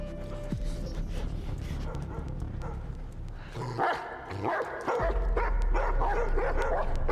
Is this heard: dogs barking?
yes